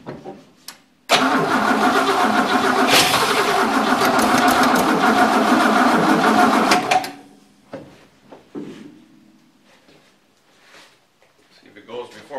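An Oldsmobile car engine cranks and catches, a loud close burst of churning engine noise lasting several seconds before cutting off, followed by quieter clunks and a voice speaking.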